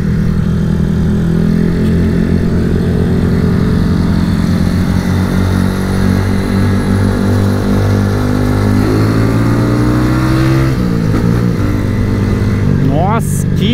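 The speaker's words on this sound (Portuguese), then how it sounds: "que ruim de virar essa moto" A motorcycle engine revs steadily and loudly up close, its pitch rising and falling through repeated throttle sweeps, with a sharper burst of revving near the end.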